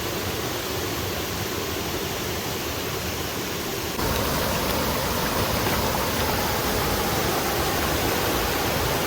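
A waterfall pours through dense forest near Shergaon in Arunachal Pradesh, a steady, loud broadband rush of falling water that continues unbroken for the whole stretch, growing slightly fuller partway through, with no voices.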